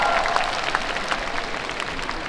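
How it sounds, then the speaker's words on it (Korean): A crowd at a film festival opening talk event applauds with steady, dense clapping that holds at an even level from start to finish. "여러분 박수"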